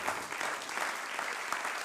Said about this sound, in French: Alors, donc Gilles Caplan, que vous pouvez encore applaudir avec Émilie Marche.